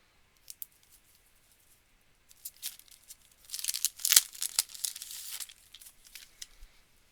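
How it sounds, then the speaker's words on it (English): Stickers being pulled from a sheet and leafed through in a lap while making a slightly spooky album: quiet scattered peeling and crinkling, with a denser, louder burst of tearing and rustling in the middle, no talk. "I have stickers in my lap that I'm just pulling and looking through"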